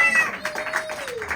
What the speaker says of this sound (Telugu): చప్పట్లు కొట్టు దేవుని స్తోత్రం